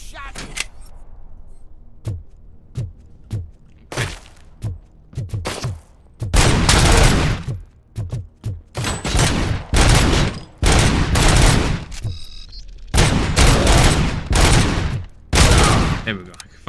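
Gunfire in the Robocop video game arrives first as sharp isolated single shots, then as loud rapid bursts and sustained volleys that alternate with short pauses, close and punchy throughout.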